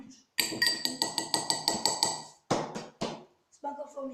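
Slime being stirred in a bowl, made with borax, giving a quick run of sharp, ringing clinks and taps at a steady rhythm, then a pause and a few scattered knocks, close and fairly loud with no talking.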